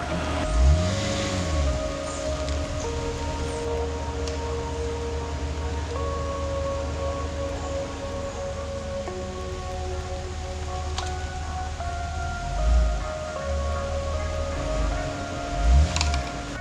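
Rain pours outside a camper van, heard from inside as a steady broadband hiss with a low hum underneath and a few soft thumps, with no talking.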